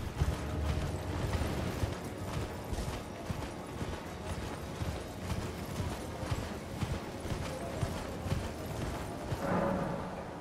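Horse hooves pound in a steady galloping rhythm while riding through Elden Ring, loud and continuous for the whole stretch, layered with game ambience and effects.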